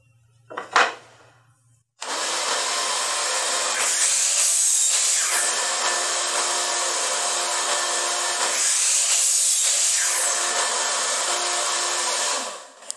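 A saw cuts pallet wood lid pieces to a 14-inch length against a stop, a loud steady whine running about ten seconds after a short burst at the start, with slight dips in pitch as the blade works through the plank.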